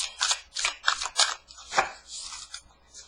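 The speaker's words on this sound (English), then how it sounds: "These cards are really hard to shuffle for me because they're so big" Oversized tarot cards being shuffled by hand, a quick series of crisp flapping riffles and slaps close by, about five rapid bursts followed by softer sliding.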